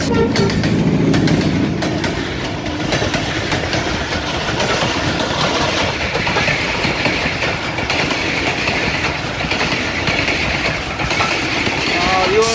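Lasani Express passenger train, number 6412, rushing past at speed, a loud continuous rumble and rattle of wagons with clickety-clack over the rails, steady throughout.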